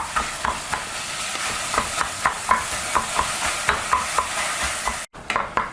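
Raw ground bison meat broken up in a hot pan, with steady rhythmic scraping and tapping of a utensil over a continuous sizzle, one brief cutout near the end.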